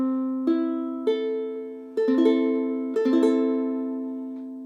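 A minor chord strummed on a ukulele, ringing clearly and alone with several separate strums in an uneven rhythm, each one decaying slowly into the next.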